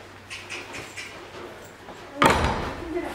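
A door on a farm with chickens is shut with one sharp slam near the end, after a stretch of quiet voices and faint background sounds.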